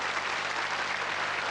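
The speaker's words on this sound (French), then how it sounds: "Applaudissez cette très belle élection et ces très belles Miss." An audience claps dense and loud for the newly crowned Miss France and Miss Tahiti on the podium at the Miss France election, a continuous even roar of hands from start to finish with no voices on top.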